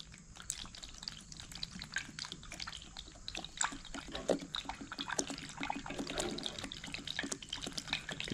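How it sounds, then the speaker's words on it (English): Coolant gurgles and trickles faintly through the radiator of an MM U302 diesel as it runs, a quiet, irregular bubbling and sloshing with no talk over it. "You can hear some, that's the radiator gurgling, not my belly"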